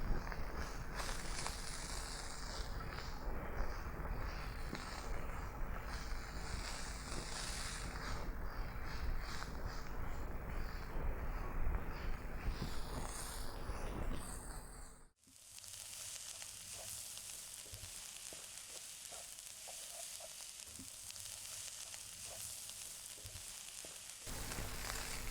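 Nasi kebuli rice stirred in a frying pan, heard as a faint, steady sizzling hiss with soft scraping, a brief dip midway and then a quieter, thinner sizzle continuing to the end.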